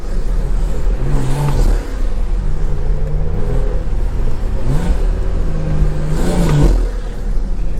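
A BMW with a stage 2 tune accelerates in repeated pulls on a college campus, a loud continuous engine roar and rumble with pitch climbing and dropping between gear changes.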